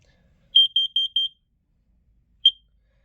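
Short rapid chirps from a smoke alarm during testing, a quick burst of about four piercing beeps, then a pause and one more single chirp in a quiet room.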